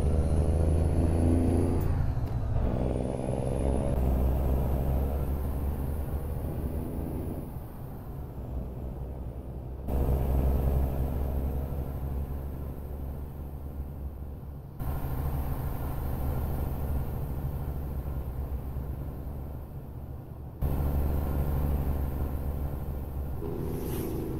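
Exterior engine drone of a Freightliner FLD120 truck in American Truck Simulator: a steady, loud low diesel rumble that changes tone at a few abrupt cuts, as if the perspective switches, with no talk.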